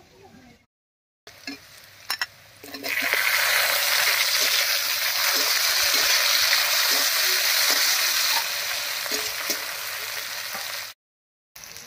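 Chopped tomato drops into onions already fried reddish-brown in a hot pan. After a few quiet handling noises, a loud, steady, close sizzle starts and holds for several seconds, then cuts off.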